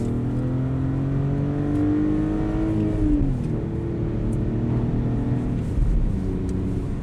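A BMW E46 330ci with a supercharger and SMG gearbox accelerates under manual shifting, engine droning steadily loud from inside the car, pitch climbing then dipping briefly at a gear change before rising again.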